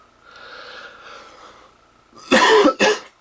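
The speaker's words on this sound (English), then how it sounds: "getting something to drink did not help at all with the cough" After a faint wheezy breath, two loud, harsh coughs burst out close by in quick succession.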